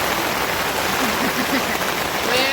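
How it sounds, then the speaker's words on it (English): Heavy rain pours down steadily in a continuous loud, broadband wash of drops. A faint voice briefly murmurs underneath it. "It's pouring down rain."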